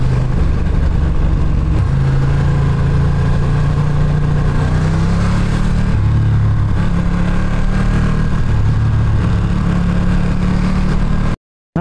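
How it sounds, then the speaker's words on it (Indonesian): A Ducati Streetfighter V2 motorcycle's engine drones loudly and steadily while it is ridden on a group road ride, with a low rumble that shifts slightly in pitch and then cuts off abruptly at the very end. "karena motor Ducati Street Fighter V2 ini udah dilengkapi sama fitur Quick Shift"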